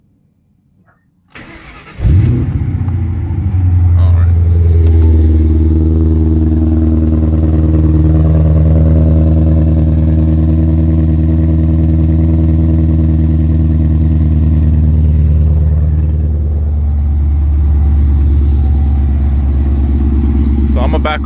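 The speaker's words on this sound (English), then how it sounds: "I'll start it up for you guys, and I'll show you what she's all about" A Ford Mustang with a new loud exhaust cold starts with a sharp crank and catch, then settles into a deep, steady, rumbling idle that lasts about twenty seconds, close and loud.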